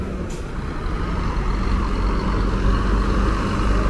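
A Gontijo coach pulls out of the Tietê bus station parking lot in São Paulo, its diesel engine rumbling loud and close in a steady, heavy drone with a brief hiss at the start.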